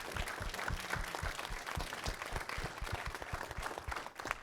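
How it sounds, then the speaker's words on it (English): An audience at a short-film festival gives a quick round of applause, a dense burst of clapping that continues steadily for several seconds before tapering slightly. "what an quick round of applause for all the projects tonight"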